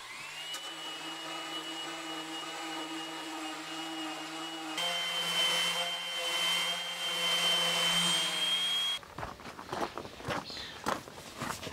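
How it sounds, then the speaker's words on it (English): A curved wooden shelf for a TV stand being power-sanded, a steady loud whirring drone with a rising whine that shifts pitch midway, then gives way to scattered rough scraping and knocks. "Now I need to get this curve sanded down along with all the other shelves."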